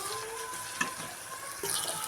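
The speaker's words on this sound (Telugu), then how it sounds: "ఇప్పుడైతే అల్లం వెల్లుల్లి పేస్ట్ అండి," Ginger garlic paste fries in a pan with onions and salt, producing a soft, steady sizzle with a faint tonal hum in the background and a brief clatter partway through.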